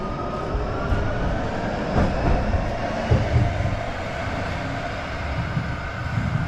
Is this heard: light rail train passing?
yes